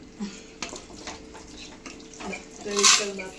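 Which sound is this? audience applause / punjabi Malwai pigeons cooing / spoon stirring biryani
spoon stirring biryani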